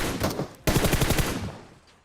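Rapid automatic gunfire in the PUBG Mobile battle royale game, a short burst, a brief gap, then a longer rattling volley that tails off.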